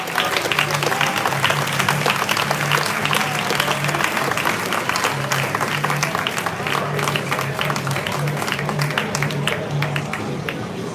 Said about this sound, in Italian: Un applauso per i secondi.